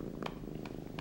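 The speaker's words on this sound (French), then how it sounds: "Il ronronne, ça veut dire qu'il est content." A kitten purrs steadily and softly up close, a continuous low rumble with a few faint clicks layered on top, no speech.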